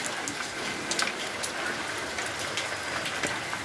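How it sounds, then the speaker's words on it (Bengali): Rain pouring steadily outdoors, a soft even hiss with scattered sharper drops, fairly faint and with no one talking. "এখনও বৃষ্টি হচ্ছে।"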